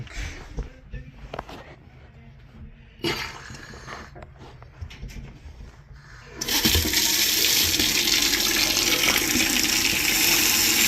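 A newly installed kitchen sink and faucet are tested. Quiet handling and a few knocks come first, then water gushes loudly and steadily from the tap into the basin for the last four seconds.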